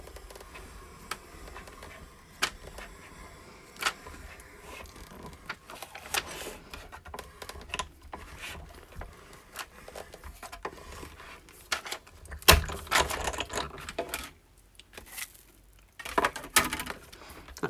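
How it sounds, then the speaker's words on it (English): A die cutting machine runs an embossing folder through its plates, giving off a steady series of soft clicks, ticks and mechanical rattles for about eighteen seconds. "insert your folder into your die cutting machine"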